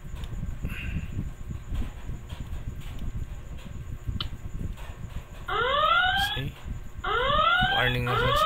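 A traffic light control warning alarm sounds in repeated rising electronic sweeps, loud and close, starting partway through over a low rumbling background hum.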